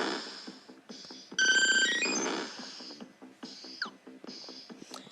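Vaporeon's cry from a Pokémon video game: a synthetic, electronic creature call of bright chirping, warbling tones and quick pitch sweeps in several short bursts, clean and close with no talk.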